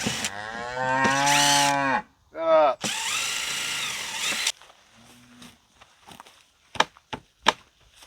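Cattle moo near a hunting shooting rest they have damaged: two long, loud, close moos with a short grunt between them, followed by quieter rustling and a few sharp clicks and knocks.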